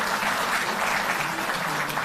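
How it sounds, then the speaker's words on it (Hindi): Steady, dense applause from a crowd at a Delhi government event regularising 700 Delhi Jal Board employees, continuous and fairly loud throughout with no voices standing out. "तालियों की गड़गड़ाहट में"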